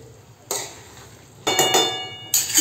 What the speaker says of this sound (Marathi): थोडासा दुसरा चमचा घेते मिक्स करायला।